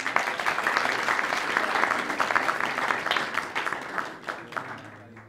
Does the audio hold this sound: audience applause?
yes